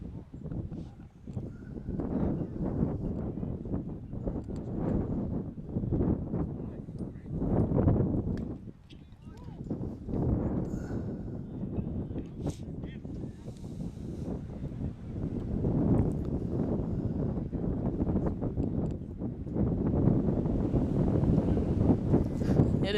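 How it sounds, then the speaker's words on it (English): Gusty wind buffets the microphone in uneven rumbling waves, rising and falling, with faint background sounds beneath, at an outdoor high school baseball game. "It is quite windy here"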